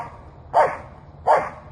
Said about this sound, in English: But she's barking because that's her job.